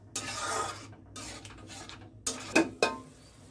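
Stirring spice paste with whisked yogurt in a pan, close-up scraping and rubbing strokes with a few sharp clinks of utensil against metal, no voices.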